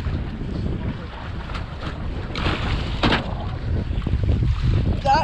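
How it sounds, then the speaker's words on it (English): Strong wind roars steadily across the open sea, heard from a fishing boat out after yellowfin tuna, with gusty buffeting on the microphone and a low rumble of water and hull, no voices. "It's getting pretty late and the wind's up, so we're just gonna troll in because the wind's so strong"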